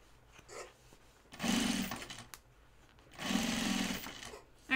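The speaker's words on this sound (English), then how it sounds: "and then stitch it down" Sewing machine stitching down folded fabric pleats on a bag pocket, two sustained bursts of motor whir and rapid needle chatter separated by a brief pause, close and fairly loud.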